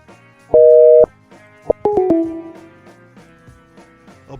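A telephone line gives a steady tone while a number is dialed, then a cluster of short beeps and a sliding tone, loud and clear with no talking.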